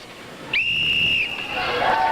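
A single long, sharp referee whistle blast starts a dodgeball match in an indoor game-show arena, loud and clear over crowd noise, followed by a fainter second tone.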